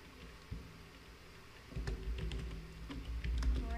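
Computer keyboard typing as a player enters a name for a new Minecraft world, a quiet stretch of faint taps giving way to a denser burst of keystrokes over a low hum.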